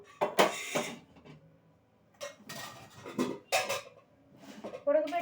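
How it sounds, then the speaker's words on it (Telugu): A cooking pot is set down on a home kitchen stove while mutton is being prepared, giving a few sharp metallic clanks and scrapes spread across several seconds, close by, with no talking. "ఇదే గిన్నె ఇదే పెట్టి పొయ్యి మీద అయితే పెట్టేస్తాను"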